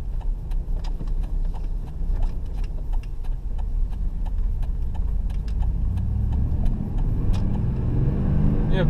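A car driving at about 35 miles per hour, with steady road and engine rumble throughout and faint regular ticking over the top.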